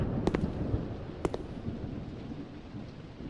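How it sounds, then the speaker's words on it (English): Thunder rumbles in the video game Crimson Room Decade, a low rolling growl over a rain-like hiss, broken by a couple of sharp crackling cracks near the start and midway. "Touch the light bulb, thunder rumbles."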